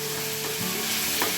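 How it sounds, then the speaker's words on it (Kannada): Brinjal curry (badanekayi ennegayi) with tomato frying in a pan, a continuous close sizzle with faint stirring scrapes and no voices. "ಇದು ಚೆನ್ನಾಗಿ ಫ್ರೈ ಆಗ್ಬೋದು"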